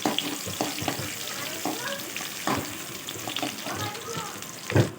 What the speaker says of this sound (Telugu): ఇలా ఉల్లిగడ్డ బాగా వేగనివ్వాలి